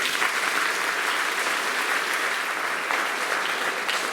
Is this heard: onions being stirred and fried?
no